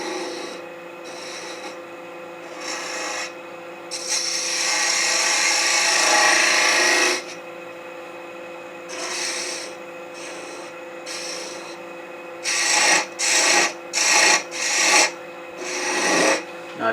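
A rasp or file shapes and rounds the nose of a small carved wooden gnome ornament, with long, steady scraping strokes broken by pauses, then a quick run of short, rhythmic rasping passes, close and clear with no talking.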